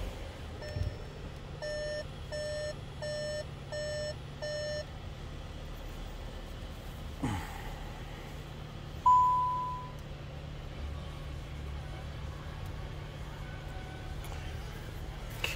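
A 2021.5 Volkswagen Atlas sounds its keyless start error warning: five evenly spaced electronic beeps in a quick row, then a single short tone a few seconds later over a low background hum.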